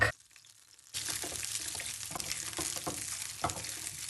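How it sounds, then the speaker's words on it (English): Garlic sizzling in a little retained oil in a pan for a Spanish omelette, a short silence then a sudden steady frying hiss with light stirring taps. "I've retained a little bit of oil in the pan, and now I'm going to saute some garlic"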